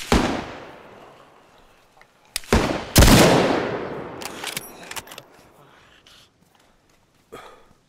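Gunfire in the DayZ survival game, a sniper firing from a treetop: several sharp shots crack out with long decaying echoes, two close together early, followed by fainter scattered pops and a late distant report.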